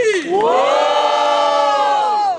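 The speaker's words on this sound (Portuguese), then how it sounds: "Diferentemente, barulhos pra quem gostou das rimas de Fauzi!" A crowd at a student rap battle (Batalha dos Estudantes) lets out one sustained, loud roar of cheering and shouting that swells and holds for a couple of seconds.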